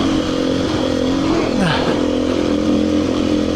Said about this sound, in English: I'm having Mike's dad show us around this place he's been riding for probably 50 years.